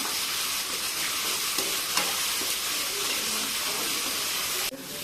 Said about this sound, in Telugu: 1 స్పూన్ అల్లం వెల్లుల్లి పేస్ట్ వేసుకోవాలి. కొద్దిసేపు బాగా వేయించుకోవాలి.